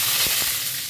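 Bay leaf, dried red chillies and whole garam masala hiss in hot oil for a chicken kosha. A dense, bright, steady sizzle fills the whole moment, with no voices.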